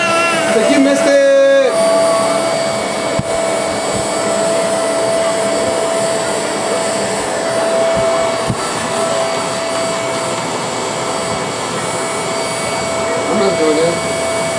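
A vacuum cleaner runs steadily and loudly throughout, a continuous motor roar with a brief shift in pitch near the start, while people talk over it.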